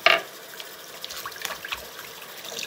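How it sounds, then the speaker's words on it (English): Tap water runs and trickles steadily while something is rinsed off at a sink, with a brief louder splash at the start and soft dribbling through the rest, near and fairly quiet. "I am just trying to wash Tiffers off"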